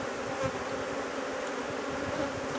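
Honeybees in a hive box make a continuous close buzzing hum, steady and moderately loud, with no voices.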